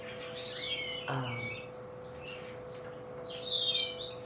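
Finches in an aviary chirp and tweet in short, high bursts, several calls scattered over a steady low hum, with a brief low thud partway through.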